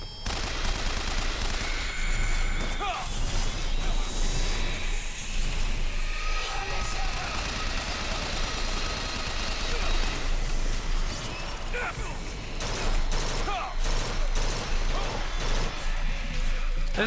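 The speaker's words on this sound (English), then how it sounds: "These guns aren't doing any good, man." Repeated gunfire from guns in the first-person shooter BioShock Infinite, a busy, dense stream of shots and mechanical clatter running throughout a chaotic boss fight, with talk over the top.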